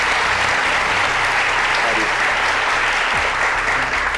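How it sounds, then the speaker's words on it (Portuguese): A studio audience on a Brazilian TV game show applauds loudly and steadily, a thick unbroken wash of clapping that fills the whole stretch, with a voice faintly beneath it. "Quero aplaudir a resposta."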